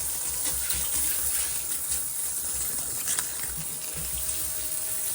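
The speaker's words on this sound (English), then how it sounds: "it says run the water for 30 seconds" Tap water running steadily through a newly fitted water filter, a constant close rushing and splashing hiss that stays even and fairly loud throughout, with no talking.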